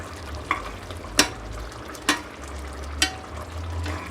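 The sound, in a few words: stirring fried eggs into simmering egg masala curry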